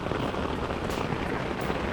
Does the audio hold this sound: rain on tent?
yes